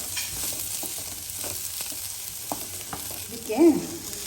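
Food frying in oil during everyday home cooking, a steady low sizzle running throughout with a louder bubbling burst near the end, heard alone with no voices.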